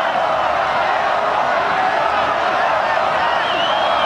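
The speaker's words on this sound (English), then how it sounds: "They stay close through Zirakashvili. The crowd." Rugby stadium crowd at a Georgia versus Romania match, a steady, dense roar of cheering that holds evenly from start to finish with no break or rise.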